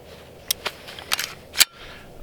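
Springfield Armory EDGE pistol with a short, light, crisp trigger being worked, giving a few sharp close metallic clicks and snaps spaced over about two seconds, the last the loudest, with no talking.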